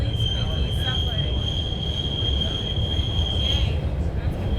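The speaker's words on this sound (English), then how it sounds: "We are now on the extremely squeaky subway." A subway train rumbles steadily along with a high, sustained metallic squeal from the wheels, loud and continuous.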